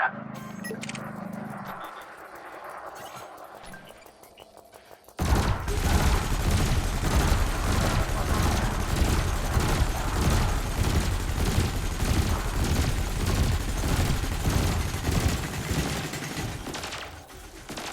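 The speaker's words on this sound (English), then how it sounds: "bring the craft into your sights and open fire" Spaceship weapons fire at a harmless target drone in the space game Elite Dangerous, a dense, loud, sustained barrage of rapid shots starting abruptly after a few quiet seconds and continuing steadily to the end.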